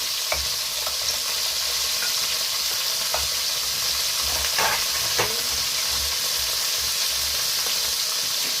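Steady sizzling and hissing of shrimp frying in a pan, close up, with occasional stirring scrapes and faint clinks.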